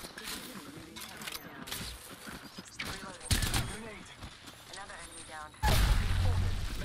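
Gunfire in the video game Apex Legends, a run of sharp shots mixed under constant game noise and a voice talking, with a louder, heavier burst near the end.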